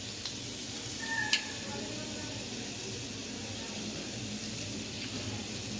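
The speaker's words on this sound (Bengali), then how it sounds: "বাটারের অনেক সুন্দর গলে গিয়েছে অলরেডি পুরাটা" Butter melts in a pan for homemade mac and cheese, giving a soft, steady sizzle and hiss that runs the whole way through at low volume.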